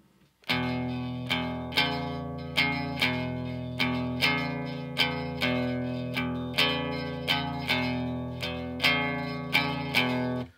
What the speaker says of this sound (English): So I'm plucking the top two strings